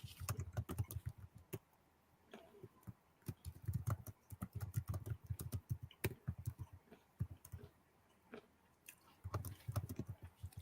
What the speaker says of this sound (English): so I'm typing in the live chat.